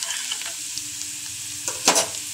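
Mustard seeds, cumin and urad dal tempering in hot oil for Andhra-style ulava charu, a steady close sizzle with a few sharper crackles and pops and a stirring scrape near the end, no voices.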